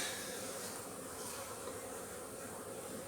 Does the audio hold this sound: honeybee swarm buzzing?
yes